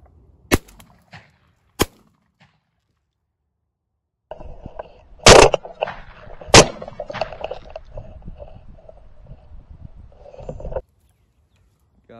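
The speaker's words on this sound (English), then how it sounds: "Shot over the top of him on the first one." Shotgun blasts ring out during a crow hunt over homemade decoys, with two sharp shots early and two more loud reports mid-clip over rustling and movement noise outdoors.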